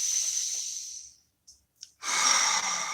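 Steady, close breathing with a hissy, airy tone: a long breath that fades out, a short pause broken by a couple of small sniffs, then another strong breath.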